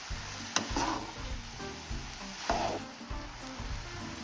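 Leafy greens fry in a pan in a village-style kitchen, giving a steady sizzle. Repeated scrapes and stirring knocks land every second or so, close and moderately loud, with no talk.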